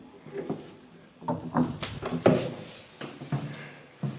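A heavy door is pushed open inside an abandoned prison, with a series of scraping clunks and knocks spread over several seconds, close by and fairly quiet, with faint voices in between.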